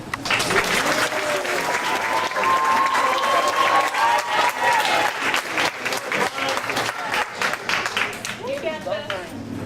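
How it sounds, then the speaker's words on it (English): At a poetry night, an audience applauds the next performer with a sustained burst of clapping and a few cheers, loud and close, before thinning out toward the end. "can everyone clap for our next performer, Ryan Aguilera"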